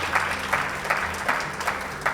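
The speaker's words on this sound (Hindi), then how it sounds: "तालियां बजाओ यार" Crowd at a televised show on Modi's birthday breaks into applause, a dense steady clapping with rhythmic pulses, loud and close, no speech over it.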